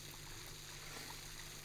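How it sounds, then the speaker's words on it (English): An air pump pushes air through water beneath sea ice in Greenland, giving a continuous close bubbling and trickling wash with a steady low hum underneath. "So what we have here is just an air pump that pumps air"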